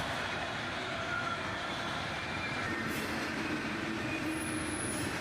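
A long freight train rolls steadily past close by, a continuous loud rumble of wheels on rail with faint squeal, part of a consist that includes a distributed power ET44AH locomotive mid-train.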